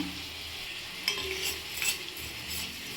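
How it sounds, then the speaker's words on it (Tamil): Coriander seeds dry roasting over low heat in an iron pan, a faint dry rustle with a couple of light stirring scrapes and soft metal clicks, close and quiet. "நம்ம இப்போ மல்லியை நல்லா வறுத்து எடுத்துக்கலாம்"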